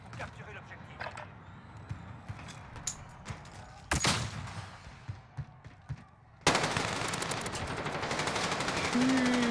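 Gunfire in the video game Warzone: short bursts of shots with sharp transients over a background of game sound, followed by a louder, denser stretch of action near the end. Speech is faintly present.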